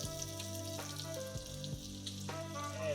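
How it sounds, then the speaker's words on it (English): Butter sizzles in a frying pan at a cooking spot by Borumba Dam, a soft steady crackle and hiss with a few faint clinks of the pan, fairly quiet and close. "I'm going to now put some butter into the pan"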